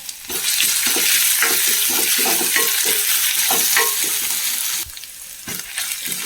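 Crushed ginger, garlic, green chilli and fennel seeds hit hot oil in a pan, a loud close sizzle with brisk stirring scrapes that drops suddenly quieter near the end, then flares up again.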